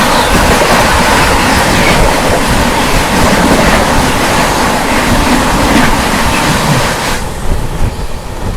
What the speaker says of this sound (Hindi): सामने से आती हुई 12314 न्यू दिल्ली शियालदह राजधानी एक्सप्रेस।